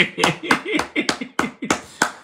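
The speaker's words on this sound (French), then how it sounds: "Applaudissez pour Farel" A few sharp, separate hand claps ring out close by in a classroom-like setting, about seven distinct slaps in an uneven rhythm with no talk.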